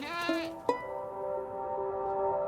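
Goats bleat on an arid, drought-stricken plain, two or three short wavering calls close by, standing alone against a quiet background.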